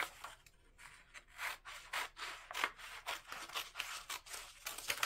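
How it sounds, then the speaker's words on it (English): Scissors cut a picture out of paper for a homemade Christmas decoration, a quiet, close series of rhythmic snipping and rustling strokes. "And now I'm going to cut out the picture."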